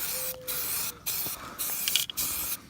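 Short bursts of spray paint hiss onto a chrome grille of a Ram 1500, four or five even passes separated by brief pauses, close and fairly quiet with no talking.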